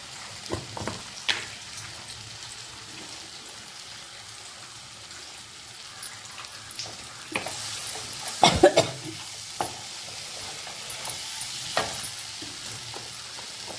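Onion and tomato frying in a pan for a dhaba-style egg masala, a constant sizzle broken by scraping stirs and a louder clatter of the spoon partway through.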